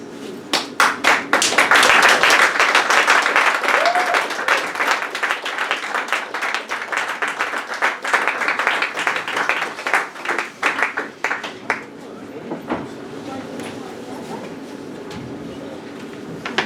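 An audience at a poetry reading bursts into dense, lively clapping that holds strong for around ten seconds, then thins into a few scattered claps and fades to quiet room tone.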